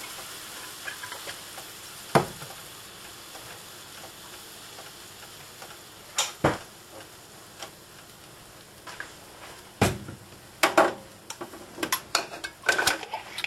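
Cajun stew cooking in a pot with a splash of white wine: a quiet steady sizzle with scattered sharp clinks and taps of a utensil against the pot as it is stirred, the knocks growing more frequent toward the end.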